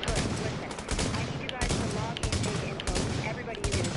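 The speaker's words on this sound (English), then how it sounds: "Oh, I just picked up a sniper rifle." A sniper rifle fires in the video game The Division: a few sharp gunshot cracks rise out of a rolling din of shots, loud and close, in a tense firefight.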